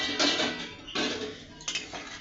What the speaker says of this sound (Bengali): এবার আমি ঢাকাটা খুলে দেখবো আমার ডালনাটা কতটা।